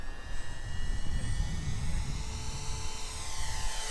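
Avios KingTwin twin-engine 1700mm RC airplane with flaps fully down passes by, a steady motor drone holding throughout with high whining tones shifting in pitch as it goes past.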